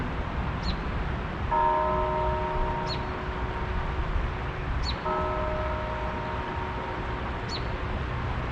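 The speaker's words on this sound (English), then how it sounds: "the church bells tolled 6 o'clock" Church bells toll six o'clock beside a trout river, faint, evenly spaced ringing strokes with lingering tones over a steady background of flowing water.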